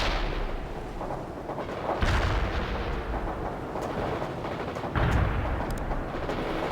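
Artillery and gunfire from the video game World in Conflict form a dense, continuous rumble of explosions and shots, with heavier booming blasts at intervals, loud and unbroken, no voices.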